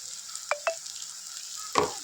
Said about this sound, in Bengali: পেঁয়াজটা খুব সুন্দর ভাজা হয়ে গেছে, তার সাথে রসুনের গন্ধটাও কেটে গেছে